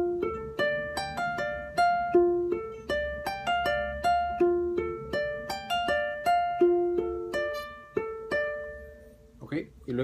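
An Ecuadorian albazo phrase played on guitar as a solo line of clear plucked notes in a lilting, syncopated rhythm, fairly quiet and close. It ends with a brief soft noise.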